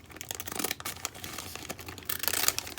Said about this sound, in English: now I'm gonna take these ziggy zaggy 6 scissors and just cut across there.